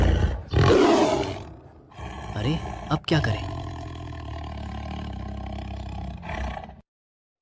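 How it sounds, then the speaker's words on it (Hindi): Deep, loud lion roars swell and fade in long bursts, with a worried voice speaking briefly between them. "अचानक शेरों की दहाड़ सुनाई दी।"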